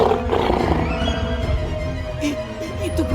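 A huge monster bear in an animated cartoon lets out a loud, deep, rumbling roar that is strongest at the start and then trails off into growling.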